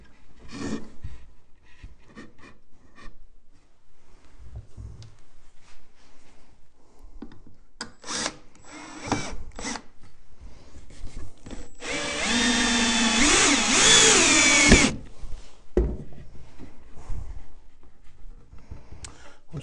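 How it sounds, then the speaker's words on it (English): A power drill drives a screw into wood while a Layens beehive is assembled, with short bursts of tool noise and handling clicks before a louder sustained run of the motor near the middle, close and without talk. "we're gonna go ahead and get our first screw in here."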